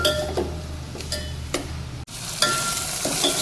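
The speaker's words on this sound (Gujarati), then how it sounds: "ડુંગળીને છડવા દઈશું આપણે આવી જ રીતે તેલમાં એકલા." Onions fry in oil with dried garlic, a close, steady sizzle broken by intermittent stirring scrapes and light clinks of a utensil against the pan, with no talking.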